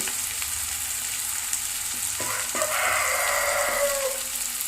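Chilli, coriander and turmeric powders sauté in hot oil for a dry fish curry, giving a steady close sizzle with a few stirring scrapes partway through.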